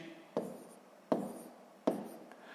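A hand writes numbers in a math exercise, three distinct scratchy strokes of pen or chalk spaced evenly, close and quiet with no talking.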